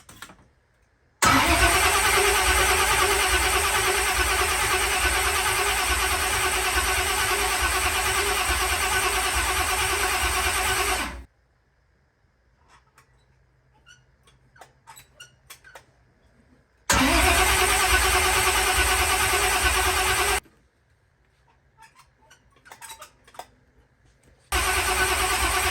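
A 402 big block Chevy engine fires up for the first time, cranking then catching into a loud, steady idle for about ten seconds, cutting off, then a second start running several seconds and a third beginning at the end, close and alone.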